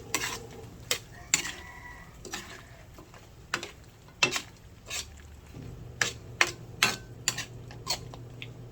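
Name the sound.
stirring chicken feet adobo in a pan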